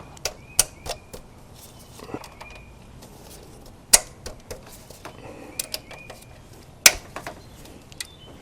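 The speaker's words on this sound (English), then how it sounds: "Now we'll start loosening these cam bolts." A wrench loosens the cam bolts on an engine being torn down. Sharp, close metallic clicks and snaps come at irregular intervals over a quiet background.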